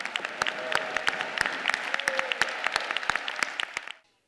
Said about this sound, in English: let's greet with a round of applause our esteemed speaker, Lord Allan Velasco.